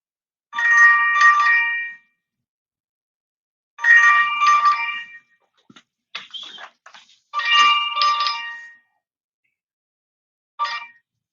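A phone rings loudly and close, with three long electronic trilling bursts separated by pauses, faint clicks between them and a short final chirp.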